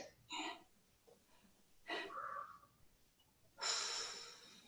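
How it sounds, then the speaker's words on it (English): Deep breathing during a yin yoga class: three separate breaths, slow audible inhales and exhales with pauses between, the last one a louder, breathy exhale, close to the microphone. "Breathing here."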